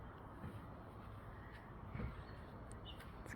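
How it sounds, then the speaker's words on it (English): A blue jay gives a few harsh, crow-like calls, faint and distant over a steady outdoor background hiss. "That's your blue jay."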